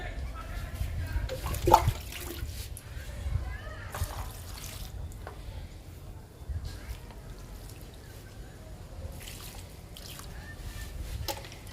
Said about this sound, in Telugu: ఈ మొక్కలకు కూడా ఇచ్చేద్దాము లిక్విడ్ని.